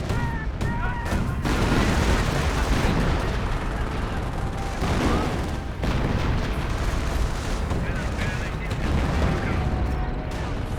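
Continuous creeping artillery barrage in the World War II strategy game Company of Heroes, a dense, loud roll of booms and blasts overlapping without pause, with a commentator's voice underneath.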